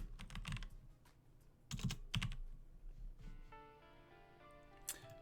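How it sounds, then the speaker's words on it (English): Keystrokes clatter on a computer keyboard in quick bursts, then a few scattered taps, close and fairly quiet, with a faint tonal hum underneath and no talking. "I'm going to type in boxing ring."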